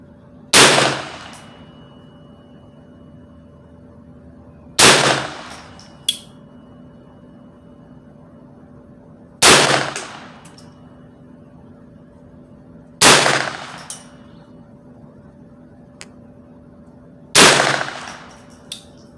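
A .22 LR pistol fires five single shots at an outdoor range, evenly spaced about four seconds apart. Each sharp crack decays quickly over a steady low background hum.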